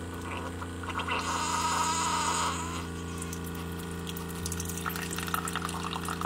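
Drip coffee maker brewing a 12-ounce cup, a steady gurgling stream of water and pump hiss that swells loudly midway, then settles to a hum with faint trickling, heard alone and close.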